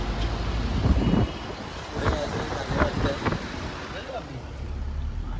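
Heavy traffic jam on the Ghantale ghat road, with a steady rumble of cars and trucks idling and creeping along close by, while people talk over the engine noise.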